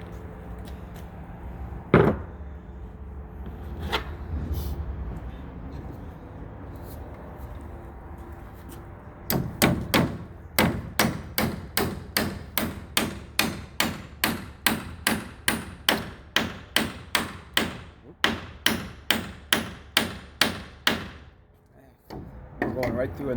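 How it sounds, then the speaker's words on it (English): A pry bar's nail puller end levering a nail out through a wood knot: a few scattered thumps, then a long run of evenly spaced sharp creaking clicks and taps, close and loud, with brief talk early on. "This other end right here can be used as a nail puller."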